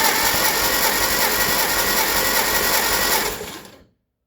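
A Farmall 200 tractor engine cranks steadily during a compression test on cylinder number 2, a loud, even mechanical churning held for over three seconds before it stops.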